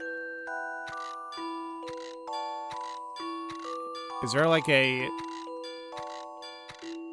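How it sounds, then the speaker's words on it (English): Hammers striking bells in a Professor Layton and the Last Specter puzzle give a series of sustained, stepped chime tones, a bright flourish near the middle, with a person talking over them. "touch the red and blue hammer to ring the bell."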